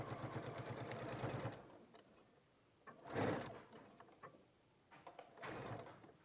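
Sewing machine stitching straight lines on fabric, a faint whirring run at the start followed by shorter bursts, quiet and close with no voices.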